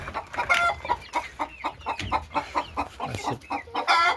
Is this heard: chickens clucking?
yes